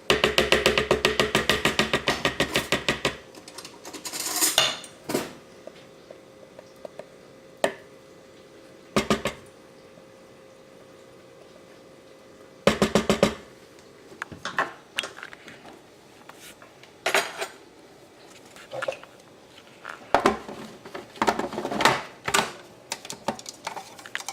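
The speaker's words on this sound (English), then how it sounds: "Scrape down the sides of your food processor and the top." A spatula scrapes the sides, top and bottom of a food processor bowl of hummus in short, irregular knocking and scraping bursts separated by quiet gaps, close and fairly loud.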